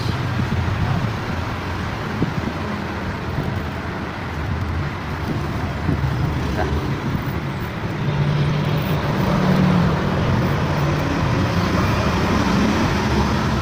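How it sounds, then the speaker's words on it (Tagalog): Continuous roadside traffic rumbles by nearby a workshop, a steady wash of engine and tire noise that swells slightly as heavier vehicles pass. "kaya maraming sasakyan na dumadaan"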